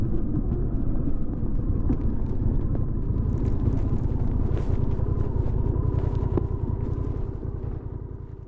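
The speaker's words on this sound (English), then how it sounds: "Then the DCT downshifts through the gears as I brake to a stop." A Honda Rebel 1100 DCT motorcycle engine gives a steady, close, low rumble as the bike brakes to a stop, easing off slightly toward the end with no talking.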